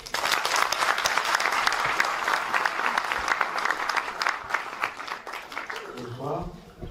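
Lively audience applause greeting a host on a French talk show stage, dense clapping from the start that thins toward the end as a voice begins talking.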